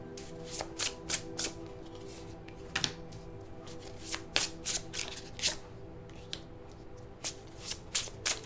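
Tarot cards being shuffled by hand, a run of crisp riffling bursts and slaps repeating irregularly at close range with no talking.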